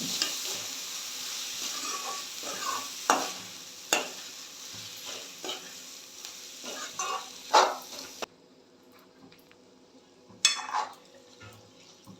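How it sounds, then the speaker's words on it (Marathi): Chana dal sizzles and hisses in a hot pan with onion while a utensil scrapes and stirs in irregular bursts; the sizzle drops away near the end, leaving faint clinks. "आता मी ह्याच्यामध्ये 2 वाट्या हरभऱ्याची डाळ घालून घेते. सगळं एकत्र परतून घेते."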